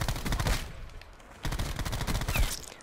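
Two bursts of rapid automatic fire from a gun in Call of Duty, close and moderately loud, separated by a brief lull, with no talk over them.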